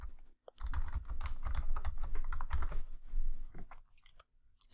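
Fast keystrokes on a computer keyboard while a password goes in, a continuous run of close clicks that thins out into a few final taps, with no voice.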